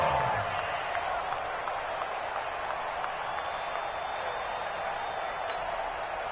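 Crowd noise in a PS4 football video game swells around a big third-down play near the two-minute warning, a steady roar of cheering and applause throughout, with commentary talk over it.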